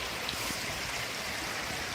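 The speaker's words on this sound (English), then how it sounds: "But there's the river." A river rushes steadily in the New River Gorge, a continuous broad wash of flowing water that stays even and fairly loud with no voices over it.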